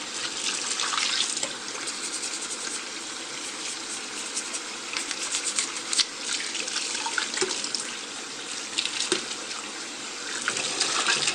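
Water runs steadily and continuously from a tap while parts of a 1/75 Rick Dom II soft vinyl model kit are washed, close and loud with small splashes.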